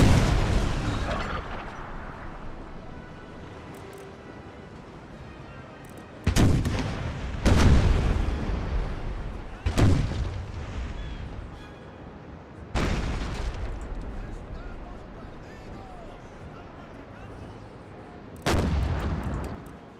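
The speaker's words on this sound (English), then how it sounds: "Just go ahead and keep attacking the pirates here. Go with the chain shots." Heavy naval cannon fire from ships fighting pirates in an Empire: Total War sea battle, firing chain shot: loud booming broadside volleys recur every few seconds over a constant rumble of sea and battle ambience.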